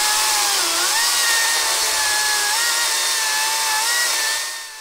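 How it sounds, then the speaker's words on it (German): A Makita DUC 353 36V cordless chainsaw cutting through 250 mm wood: a loud, continuous high electric whine with a steady rasping chain bite, pitch dipping slightly as it strains, fading at the end. "hier hat sie schon mehr oder weniger zu kämpfen, aber trotzdem, der Fortschritt ist auf jeden Fall ziemlich beachtenswert"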